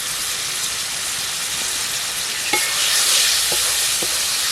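Ginger and chili paste with turmeric and potato sizzles and is stirred in a pan for a red amaranth stem and jackfruit seed dish, giving a loud continuous hiss with a few scraping clicks of the utensil near the end.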